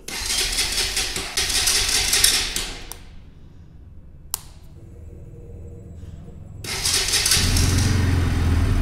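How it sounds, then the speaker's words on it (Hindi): A 2024 Bajaj Pulsar NS200 engine runs loudly, cuts to near silence when the kill switch is turned off, then fires up again with a sharp start and settles into a deep, steady exhaust rumble. "आप कर लेते हैं बाइक को स्टार्ट और सुनते हैं एग्जॉस्ट नोट"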